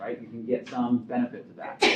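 A single sharp sneeze bursts out at the end of a stretch of lecture speech in a classroom setting, brief and fairly close over the talking.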